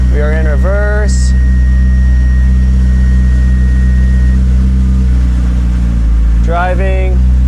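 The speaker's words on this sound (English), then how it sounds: "I'm just temporarily going to put it in reverse." McLaren engine idling with a loud, steady low hum as the car is shifted into reverse, with chiming warning tones at the start and again near the end.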